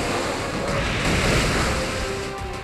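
Waterfall attack effect from a Pokémon Omega Ruby Wi-Fi rotation battle, a continuous roaring rush of crashing water with a faint tonal layer, loud and steady throughout with no voices.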